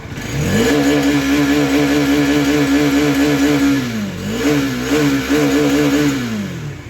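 A 400cc motorcycle engine revs hard and close, holding a loud buzzing drone, dipping briefly near the middle, then climbing again before easing off.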